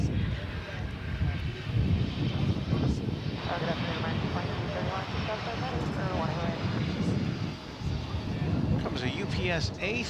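An Airbus A300 at DFW Airport gives off a rumbling engine roar with shifting whines, loud and fairly close, while people talk over it throughout.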